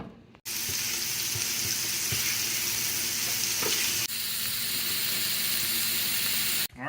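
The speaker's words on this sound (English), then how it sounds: "We're going to go ahead and cook a couple patties and test it on the stove." Homemade wild hog sausage patties frying on a stovetop, a dense constant sizzle with a few light scrapes, close up and alone, cutting in and out at both ends.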